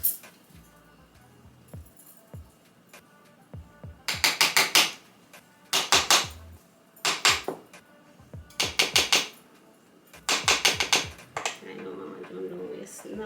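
Rough, repeated scraping as spice bun batter is scraped from a baking pan for a Jamaican Easter spice bun, coming in five loud bursts of rapid strokes separated by quieter pauses.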